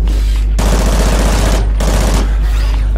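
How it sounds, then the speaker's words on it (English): Submachine gun fire in the shooter game Call of Duty: Ghosts, loud sustained bursts rattling in three stretches separated by short gaps. "I think it's just a submachine gun"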